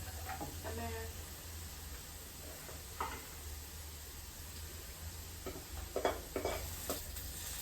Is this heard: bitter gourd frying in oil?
yes